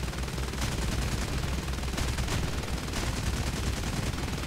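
Rapid machine gun fire from the 7.62 mm guns of a Fokker T.V bomber in War Thunder, with dense continuous bursts and sharper volleys that stay loud and steady throughout.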